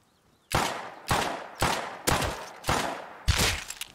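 Gunfire in the survival game Rust, six loud, evenly spaced shots roughly half a second apart, each a sharp crack with a short decaying tail, heard alone without talk.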